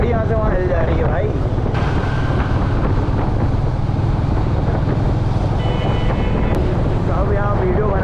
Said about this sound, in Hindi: क्या हवा चल रही है, गाड़ी यहाँ से वहाँ हिल जा रही है भाई।